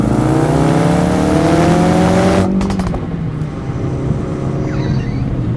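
A 2017 Ford Focus RS accelerates hard, its engine rising loudly for a couple of seconds before a rapid string of sharp, gunshot-like exhaust pops, then a fading rumble as it pulls away.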